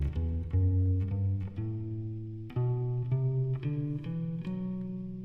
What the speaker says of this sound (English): we have another major scale called the Lydian, and that would sound like this.